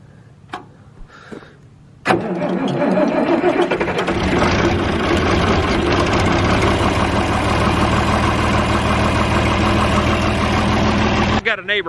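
An old John Deere 4020 tractor is started on a cold day. A few quiet knocks come first, then the engine catches with a sudden roar and settles into a loud, steady, rumbling idle before it cuts off near the end.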